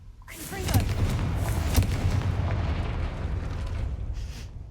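A Confringo fire spell blasting a gate in Hogwarts Legacy, a single loud explosive boom followed by a long rumbling roar and crackling debris that slowly fades.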